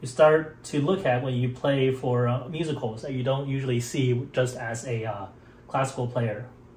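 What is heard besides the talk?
No distinct noise like a dog, phone or traffic.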